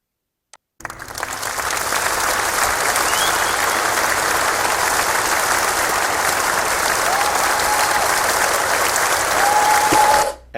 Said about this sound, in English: I'm trying to look for the other applause